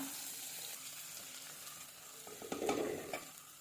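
Chili powder dropped into hot, bubbling oil for a Kerala-style fish curry, a steady low sizzle with a louder burst of frying and stirring near the end, close and without talk.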